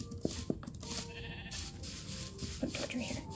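Sheep bleat in Minecraft Pocket Edition, with several short bleats at a moderate level over a busy game background. A person talks over them, alongside other farm animals such as cows and pigs.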